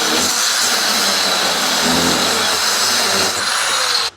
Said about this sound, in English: just throw in a little cutting disc right there